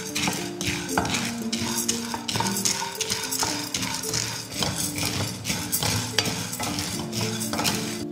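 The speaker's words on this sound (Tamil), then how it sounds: "அடுத்ததாக கடலைப்பருப்பு வறுத்துக்கலாம்." Chana dal being dry-roasted in a pan for coconut podi, with constant close scraping and clinking of a metal spoon stirring the dry lentils, punctuated by sharper knocks against the pan in a busy, uneven rhythm.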